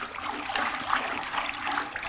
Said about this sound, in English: And I mix it up with a toilet bowl brush.